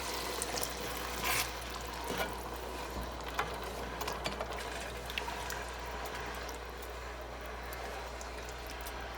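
Water pours steadily from a can into a cooking pan in a continuous splashing trickle for several seconds, close by, with small clinks and no talking.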